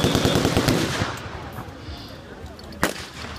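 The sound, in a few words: 30 caliber machine gun fire at an armed forces re-enactment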